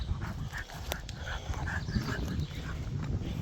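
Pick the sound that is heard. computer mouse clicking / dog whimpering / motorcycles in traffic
dog whimpering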